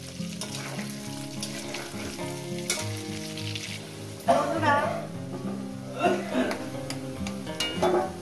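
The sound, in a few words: potatoes frying in oil until red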